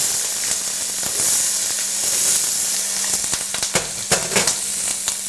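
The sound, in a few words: whole corn kernels sizzling in a hot pan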